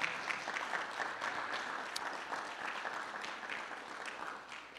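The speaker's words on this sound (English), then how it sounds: "Give them a big round of applause" A lecture audience at a Black History lecture series event gives a sustained round of applause, dense and even, with no talking over it.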